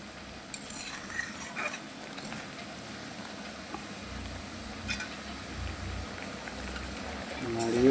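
A pan of fish in mustard sauce is stirred over heat with a spoon, giving soft scrapes and occasional light clinks over a low bubbling simmer, fairly quiet, with a voice speaking over it.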